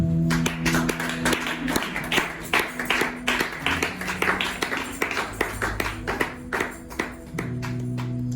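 A church congregation claps together in acclaim: a run of rhythmic, fairly steady hand claps, loud and close, with sustained organ or keyboard tones underneath.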